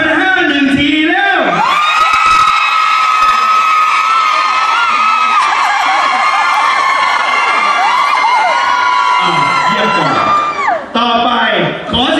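A large crowd cheers and screams loudly and continuously, shrill and high-pitched, with a voice over a loudspeaker at the start and end.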